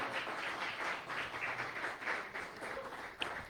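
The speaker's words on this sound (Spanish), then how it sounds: "Dele fuerte ese aplauso a Jesucristo en esta noche." A church congregation applauding during a service, a steady crowd of many hands clapping throughout, moderately quiet and fairly even with small swells.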